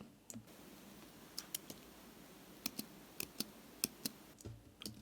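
Keyboard keys clicked in quick sharp taps, a few isolated presses then a cluster of several clicks, close and fairly quiet against a faint room hiss with no talking, as when entering a Command or Control J shortcut in Affinity Designer v2.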